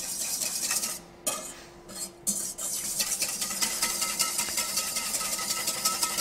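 Oil being whisked into a salad dressing in a bowl set inside a pot, a fast, steady rattling whisk against the bowl, close, after a brief pause near the start, with no talking.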